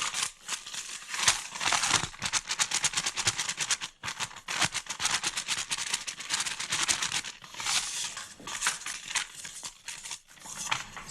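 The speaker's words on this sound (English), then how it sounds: "like just kind of shake it around in the bag just to cover it with the mixture of the plain flour and the paprika" A plastic bag holding plain flour and paprika is shaken and crumpled to coat chicken pieces, giving rapid rustling crinkles in dense bursts with brief pauses, close and fairly loud.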